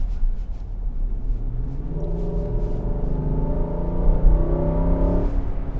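A 2021 Nissan Armada Platinum's V8 revs steadily, a low engine rumble whose pitch climbs and holds through a single sustained rev, heard alone with no talking.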